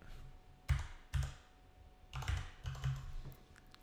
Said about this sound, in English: I have a mic in front of my keyboard, so it's a little awkward typing right now.